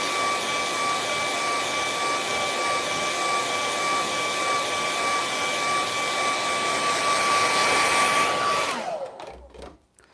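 A hair dryer blows steadily to dry paint on an ocean scene painting, a loud continuous whooshing hum with a faint whine that runs for about eight seconds, then winds down and stops, no talk.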